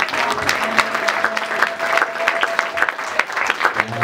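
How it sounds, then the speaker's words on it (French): A church congregation claps and cheers loudly for the King of kings, dense applause with scattered shouts carrying on steadily throughout. "Est-ce que nous pouvons acclamer très fort le roi de roi?"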